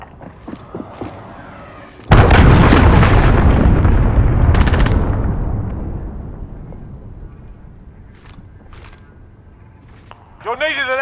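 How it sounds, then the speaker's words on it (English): A cruise missile strike in Call of Duty Modern Warfare Ground War lands as a sudden loud boom that rolls into a long, slowly fading rumble, with scattered distant gunfire around it and radio voice chatter near the end. "Enemy cruise missile incoming."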